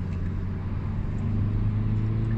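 Steady low engine and road drone from inside a Hyundai i30 N Performance merging onto a German Autobahn, a continuous rumble with a faint tonal hum and no talking.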